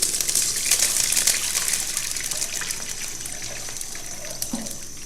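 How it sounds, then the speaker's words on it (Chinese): Clear water gushes and splashes into a pot over fried scallion and ginger, a steady close pour lasting several seconds and tapering slightly toward the end, with no talk. "我们在里面加上适量的清水"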